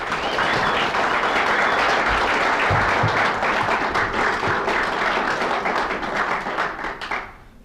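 A large audience applauds steadily and loudly for a speaker stepping up to give a talk, the dense clapping holding strong for about seven seconds before tapering off at the end.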